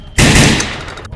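A single loud, close gunshot bursts suddenly in a Nigerian action movie scene and then decays over about a second.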